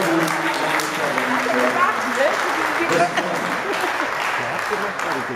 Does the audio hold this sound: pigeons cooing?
no